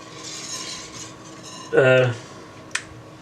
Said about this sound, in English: Just stir a little bit until the cream is completely